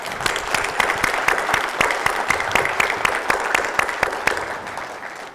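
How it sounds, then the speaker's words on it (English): Conference audience applauding a panel at an energy summit, dense sustained clapping from a large crowd, loud and continuous, tapering slightly at the end. "Please join me in giving them a round of applause."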